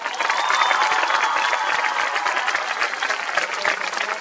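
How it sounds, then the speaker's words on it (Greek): A live concert crowd in Kefalonia claps steadily, a dense, even wash of many hands that holds without pause from start to finish. "πόσο δυνατά θα τους χειροκροτήσουν?"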